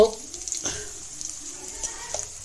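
Tomatoes frying with salt and turmeric in a pan, a soft close sizzle with a few light stirring knocks, brief and fairly quiet.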